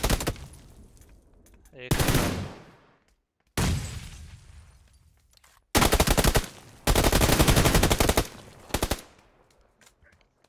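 PUBG PC Lite gunfire, loud bursts of automatic fire and single shots in several close blasts separated by short gaps, with a brief spoken word among them.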